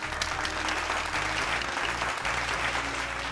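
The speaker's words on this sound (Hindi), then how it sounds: "जोरदार तालियों के साथ उनका स्वागत कीजिए।" An audience applauds to welcome a guest onto a television talk show set, with dense, even clapping from a crowd that holds steady throughout under a low musical hum.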